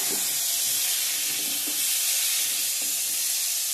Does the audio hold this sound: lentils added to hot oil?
yes